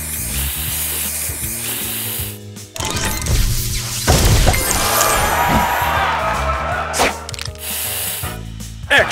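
Booster spray effect from the Match Masters match-three game: a busy mix of chimes, whooshing spray hisses and crashing bursts over background game music, with sharp spikes of sound scattered through the sequence.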